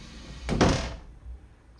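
An automatic machine door on a DIY pallet pool setup, driven by a rod end and controlled by an OB7 robot, closes with a single broad sliding whoosh ending in a dull thunk, followed by a softer bump.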